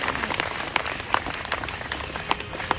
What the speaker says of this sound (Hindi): ताली बजाओ, एक कपाल भाती हो जाएगी